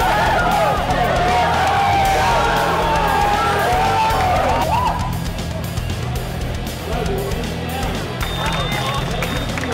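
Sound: crowd cheering wildly at robotics tournament

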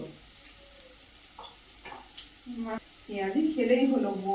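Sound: frying onion fritters (piyaji) in a pan

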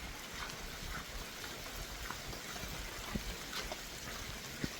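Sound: rain and water flowing on the road

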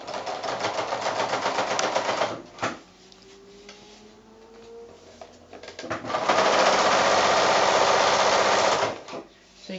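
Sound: sewing machine stitching PVC coated fabric shopping bag

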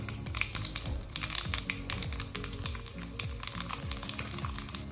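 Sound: mustard seeds and cumin sizzling in hot oil for tadka

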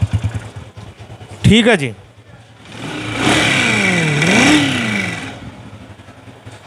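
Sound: Honda 125 motorcycle (2003 model) engine running and revving

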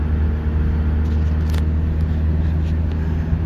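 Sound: two-stroke car engine driving in overdrive at 2,000 RPM

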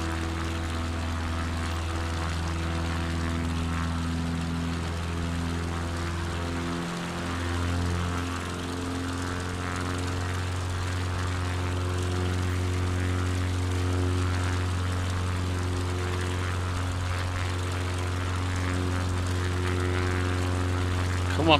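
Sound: propeller plane engine in video game Microsoft Flight Simulator 2024

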